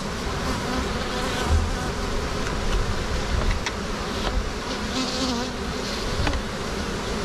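Dense, steady buzzing of many honeybees at an opened beehive, loud and close, with individual bees droning past over the continuous hum and no talking.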